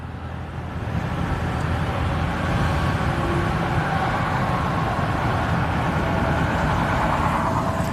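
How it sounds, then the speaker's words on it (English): A loud, steady truck engine drones inside the cab during a hitchhiking ride, a constant low rumble with road noise that holds level throughout. "It's kind of loud in the truck."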